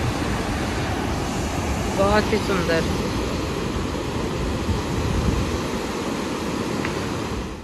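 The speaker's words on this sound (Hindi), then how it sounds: "इधर में ये गेट्स खोल दिए जाते हैं, तो सारा पानी फ्लश आउट किया जाता है यहाँ पे" Water from the open gates of Maithon Dam rushes in a constant loud roar, with a person speaking briefly over it.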